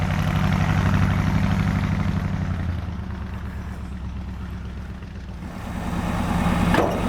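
A 1976 Chevy G10 van's engine idles steadily and close by with a deep, even rumble, its timing and idle speed freshly adjusted; the tone settles slightly lower midway, then swells again near the end.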